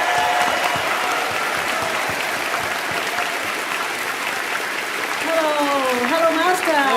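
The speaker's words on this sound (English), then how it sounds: "let's give a warm round of applause to welcome our most honorable" An audience at a large televised charity event breaks into a warm, sustained wave of applause to welcome an honored guest, a dense steady roar of many hands with cheering voices and music rising toward the end.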